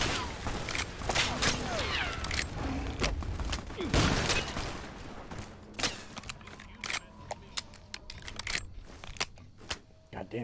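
Rapid gunfire in the Fallout New Vegas video game, bursts of sharp shots and clicking weapon mechanics up front, then sparser single shots tapering off, with a player talking over parts of it.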